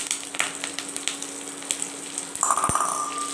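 Curry leaves dropped into hot oil with mustard seeds for a dosa side dish, a steady close sizzle and crackle that grows louder and busier toward the end.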